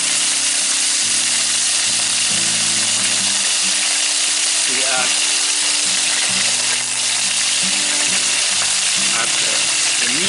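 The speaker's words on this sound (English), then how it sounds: "here I start the heat with some fat to fry the meat on all sides, nice and dark and brown" Meat fries in hot fat in a pan for Sauerbraten, a dense, continuous loud sizzle with occasional scraping and stirring knocks; no voices.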